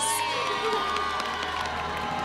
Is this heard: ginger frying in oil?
no